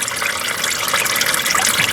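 CVT transmission fluid from a 2011 Nissan Altima 2.5 SL pours steadily into a half-filled drain pan, making a loud, continuous close-up splashing gush without pauses.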